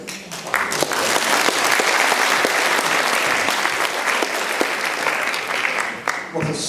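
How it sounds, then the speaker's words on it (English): Sustained round of audience applause greeting the presenter of Pot of Gold, a dense, steady wash of many hands clapping at full volume for several seconds before fading at the end. "What a sturdy round of applause that was"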